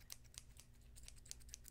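Scissors snipping in a 3D binaural recording, placed close in the right ear: a quick run of crisp, separate metallic snips in an uneven rhythm over low steady background hum, with no speech.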